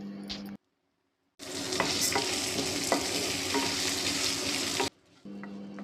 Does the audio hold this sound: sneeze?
no